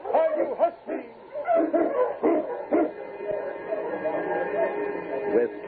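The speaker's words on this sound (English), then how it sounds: "With King in the lead, the dogs raced over the frozen trail" Husky sled dogs bark, yip and whimper in quick irregular bursts as part of a radio drama set on a frozen Yukon trail, fairly close and lively, running for several seconds without narration.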